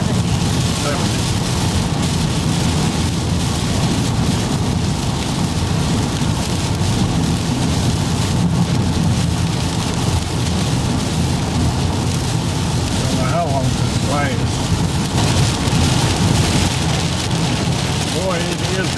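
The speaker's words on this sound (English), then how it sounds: "Boy, it is raining now. Really hard." Heavy rain hammers steadily on a car moving in traffic during a road trip, a dense, loud, continuous roar. A person speaks briefly over it.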